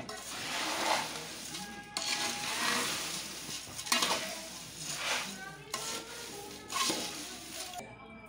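Spicy boondi being tossed and mixed with salt in a bowl for a Diwali snack mix, giving a steady dry rustling and scraping with a few louder bursts, close and continuous, with no talk.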